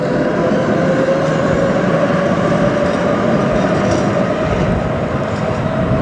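A Budapest tram from 1991 pulls away with a steady, loud rolling rumble and a sustained motor whine. The sound stays close and even throughout, with no voices.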